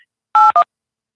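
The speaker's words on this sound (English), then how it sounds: "he just hung up the phone. Not only did he hang it up, he slammed it down" Telephone line tones after a caller hangs up: two short, clean electronic beeps in quick succession, the first slightly longer, set in otherwise near silence.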